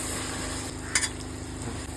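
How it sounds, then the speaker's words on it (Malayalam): Spices (turmeric, chilli and coriander powder) stirred and sautéing in cold-pressed coconut oil for an Alleppey fish curry: a steady close sizzle with a low hum beneath and a brief scrape of stirring partway through. "ഇതെല്ലാം ചേർത്ത് ഇപ്പം വഴറ്റുവാണ്"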